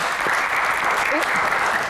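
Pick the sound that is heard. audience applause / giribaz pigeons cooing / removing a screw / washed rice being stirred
audience applause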